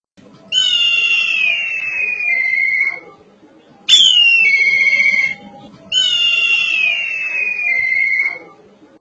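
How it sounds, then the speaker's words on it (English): A kite, a bird of prey, gives three long, high, descending whistled calls, each about two seconds, loud and clear against silence. "Kite."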